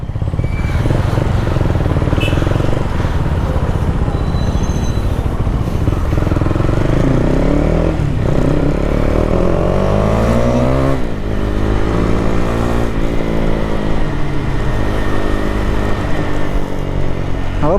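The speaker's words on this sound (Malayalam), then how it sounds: "തൊട്ട് പുറകെ റോഷൻ്റെ സൗണ്ട് കേൾക്കുന്നുണ്ടല്ലോ വണ്ടിയുടെ" A KTM Duke motorcycle ridden close behind by Roshan, its engine revving loudly and continuously, pitch climbing and falling through repeated gear-change sweeps over constant wind rush.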